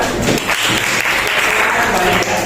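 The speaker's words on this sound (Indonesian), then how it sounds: "Kita kasih tepuk tangan" Classroom applause from students after a class presentation, a dense, steady burst of clapping filling the room, with some voices mixed in.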